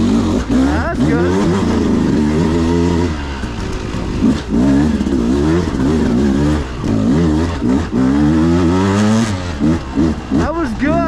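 A 2022 Beta 200RR Race Edition two-stroke dirt bike revs hard in first gear on a trail, its loud, buzzing engine rising and falling repeatedly close by.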